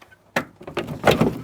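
On a 1967 Volkswagen Beetle, a door lever is pressed to release the door, giving a sharp metallic click followed by a few lighter rattling knocks close by.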